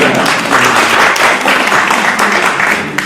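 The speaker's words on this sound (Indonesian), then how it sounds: "Mau tepuk tangan buat Tuhan Yesus." Church congregation at a miracle prayer service clapping loudly and continuously, a dense, sustained roar of many hands close by with no clear talking over it.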